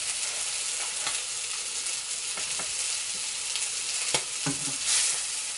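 Gluten-free haddock pan frying, a steady close sizzle with bright crackling, plus a few light scrapes and taps from turning or stirring in the pan.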